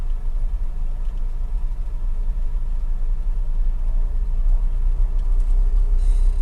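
A manual car drives during a beginner's driving lesson, giving off a steady low engine and road rumble with no talking.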